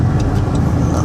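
A 2015 Dodge Caravan SE wheelchair mobility van accelerating on a highway, a loud steady engine and road drone heard from inside the cabin, continuous with no talking.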